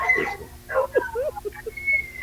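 Pet dogs whine and whimper in short, high, wavering cries close by, several broken yelps over a faint background, with a little human voice mixed in.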